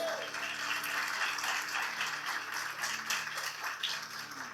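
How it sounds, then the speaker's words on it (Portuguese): A church congregation applauds during a worship service, a dense continuous wash of clapping with faint voices mixed in, steady and moderately distant for the whole stretch. "Aleluia, aplauda Jesus."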